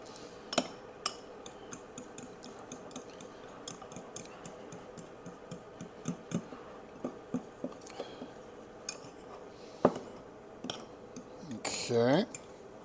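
A fork clinks and scrapes against a bowl while mixing dry chocolate ingredients with Hershey's cocoa, scattered light taps at irregular intervals over quiet room tone.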